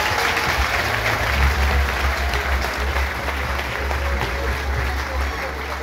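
A Pentecostal church congregation applauds with a full, continuous wash of clapping, while voices carry underneath and a low hum runs through the room.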